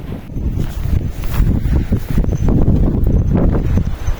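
Steady wind buffeting the microphone on a rough mountain road journey through a storm, a continuous low rumbling roar with gusts swelling and easing throughout, close and fairly loud with no voices.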